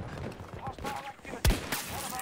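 A single sharp sniper rifle shot in the video game Battlefield 2042 cracks out over busy background battle noise, brief and close.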